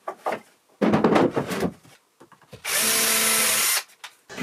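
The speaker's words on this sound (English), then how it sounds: "whilst I drill a pilot hole into the stud-work" A power drill bores a pilot hole into wooden stud-work for plywood shelving, a single steady whirring burst of about a second that follows some knocks and handling noises nearby.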